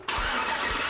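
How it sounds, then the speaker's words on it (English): A car engine cranks and fires up after its battery cable is reconnected, catching at once into a loud, steady running roar close by. "We got Chief Tech Chase in the car to go ahead and start it up"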